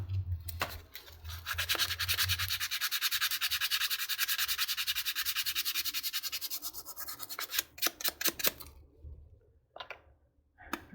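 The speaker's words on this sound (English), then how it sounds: "Oh, maybe I should sand that a little bit." Hand sanding during a glue book art session, a close, steady rhythmic rubbing and scratching of paper against a surface that breaks into slower, uneven strokes and stops near the end.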